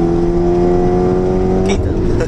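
Audi TT engine pulling hard at full throttle in third gear, a steady loud drone with rising harmonics, with people talking over it and a brief change near the end.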